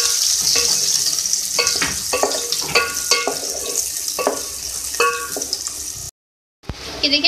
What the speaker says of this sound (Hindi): सबसे पहले ऑयल में हम प्याज ऐड करेंगे, इसको सॉफ्ट कर लेंगे।